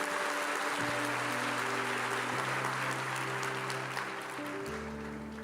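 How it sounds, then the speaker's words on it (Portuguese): A church congregation applauds for the Lord, a steady wash of clapping with sustained keyboard chords shifting underneath, slowly fading near the end. "Eu queria que você aplaudisse ao Senhor."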